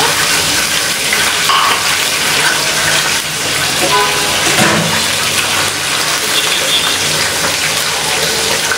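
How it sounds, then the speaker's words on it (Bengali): Water poured into a hot frying pan where fish has just been fried with chopped onion, giving a loud, steady hiss and splashy sizzle that runs continuously, with faint clinks and stirring near the middle. "তো দিয়ে দিব সামান্য পরিমাণ পানি।"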